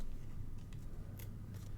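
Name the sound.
paper snips trimming paper for a card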